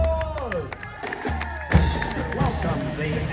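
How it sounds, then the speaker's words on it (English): Crowd applause and cheering along a parade route at the Minnesota State Fair as a dairy princess rides past. A lively wash of claps and voices with a swell partway through, music tones, and a thump or two mixed in. "Applause!"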